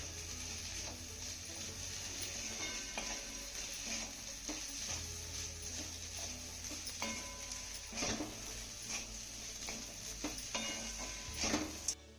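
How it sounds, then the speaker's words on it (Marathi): Fenugreek leaves and crushed peanut being sautéed in a pan, with a soft steady sizzle broken by scraping stirs and sharp spatula knocks against the metal, quiet and close, with no talking. "आता आपल्याला हे सर्व साहित्य 2 ते 3 मिनिटं चांगलं परतून घ्यायचं आहे"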